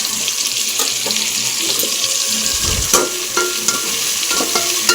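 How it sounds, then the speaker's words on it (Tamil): Tomatoes and onions sauté in a pan for a fish curry, a steady sizzle under scraping and clinking stirring strokes with a few sharper knocks of the spoon. "இதை நல்லா வணக்கி விட்டுக்குங்க."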